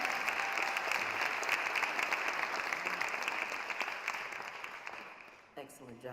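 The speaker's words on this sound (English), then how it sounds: "Let's give them another round of applause" Audience applause fills a hall at an MLK Day celebration, a dense, steady clapping from a large crowd that holds for several seconds and then tapers off near the end.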